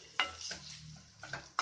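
Spring roll filling being stirred in a pan, with a few soft scraping strokes and light clinks of the utensil against the pan, close and fairly quiet.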